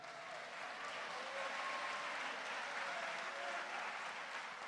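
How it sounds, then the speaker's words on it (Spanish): A church congregation at a Spanish-language worship service applauds in steady, dense clapping that fills the whole stretch at a moderate, slightly distant level. "Tribute un aplauso al Señor."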